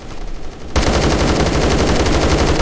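Sustained automatic fire from an AK-12 rifle with no attachments in a first-person shooter video game, a loud, rapid, unbroken burst of gunshots that starts abruptly after a moment of quiet and continues to the end.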